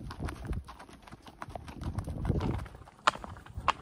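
Horse hooves clopping in an uneven walking rhythm on a mountain ride in the Sierra Nevada near Bubión, close by, with a couple of sharper knocks near the end.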